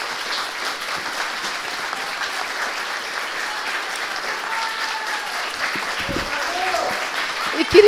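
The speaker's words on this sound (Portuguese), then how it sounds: "Então, eu queria uma salva de palmas." Audience applause fills an auditorium at an architecture school anniversary ceremony, steady broadband clapping from a crowd sustained throughout and rising slightly at the end.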